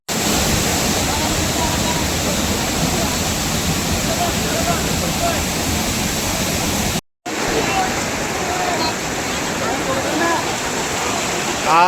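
On the Bhimashankar trek, a forest stream rushes in a loud, steady wash of water noise that continues without a break, apart from one brief cut.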